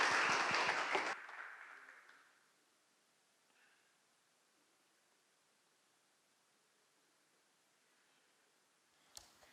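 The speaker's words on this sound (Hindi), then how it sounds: "तालियों के द्वारा उनको स्वागत करें प्लीज" A church congregation applauds to welcome speakers at a Hindi-language service, a short loud burst of clapping that fades quickly into near silence.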